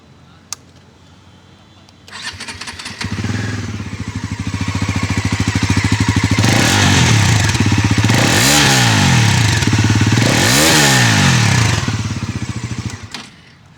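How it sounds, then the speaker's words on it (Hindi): A Bajaj Pulsar NS400Z motorcycle starts up close by, idles with a deep, bassy exhaust thrum, then is revved hard twice in rising and falling sweeps before settling back to idle. "अब दूसरा मैं आपको सुनाता हूँ NS का एग्जॉस्ट साउंड।"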